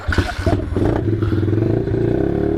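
A small engine fitted with a new carburetor is pulled over and catches, a few rough clattering bursts giving way to a steady, loud running drone close by.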